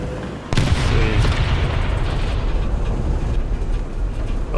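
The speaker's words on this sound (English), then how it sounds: "Oh no, artillery. I don't want to die to artillery now" A heavy artillery boom in the War Thunder tank game lands close and loud, followed by a sustained rumbling roar that fills the rest of the moment without any talk.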